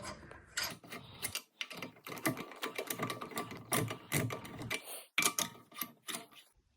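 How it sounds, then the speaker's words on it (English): A socket wrench loosens car wheel lug nuts one by one in a star pattern, giving close, sharp ratcheting clicks in irregular bursts separated by short pauses. "Slowly continue to loosen each bolt, following the same star pattern."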